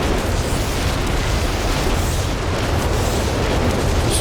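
Artillery shells bursting in Company of Heroes 3 during a 2v2 match, a dense unbroken rumble of heavy booms and blasts that stays loud and steady throughout.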